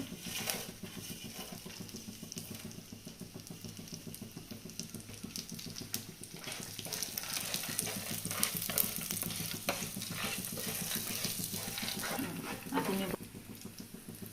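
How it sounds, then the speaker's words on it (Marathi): Dal, coriander seeds and peanuts are dry-roasted in a hot pan for a village-style black masala, giving a steady faint rustle and patter as they are stirred, with light scraping and occasional brief voices in the background. "पॅन मस्त आपला तापलेला आहे त्यानंतर डाळ्या धने आणि शेंगदाणे"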